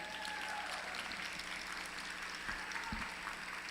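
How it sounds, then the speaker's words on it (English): Dense, continuous applause from a conference keynote audience, even and sustained throughout, with a few low thumps near the end. "How about another round of applause?"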